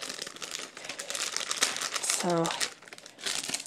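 Plastic packaging from LEGO sets crinkles and crumples as it is pulled open, a close, busy rustling that continues throughout, with a voice speaking briefly.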